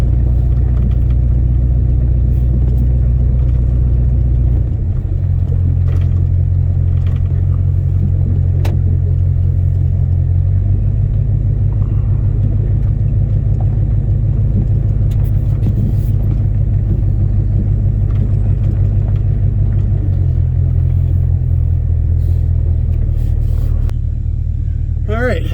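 A lowered GMC C20 pickup truck rolls slowly down a driveway, its engine giving a steady, loud low rumble with slight shifts in pitch, up close.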